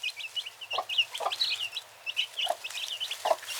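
Several chickens clucking and murmuring nearby in a backyard, soft irregular clucks scattered over a few seconds, fairly quiet with no talk.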